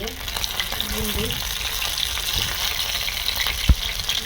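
Fish and eggs frying in a pan, a dense close sizzle and bubbling hiss running throughout, with a few low knocks and one sharp clack near the end.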